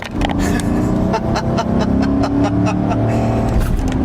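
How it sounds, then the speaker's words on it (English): Chevy V8 truck fitted with a Pedal Commander throttle controller accelerating hard, a loud, steady engine roar with rising harmonics heard from inside the cab, with faint voices briefly in the background. "Now I feel the V8 this truck is meant for."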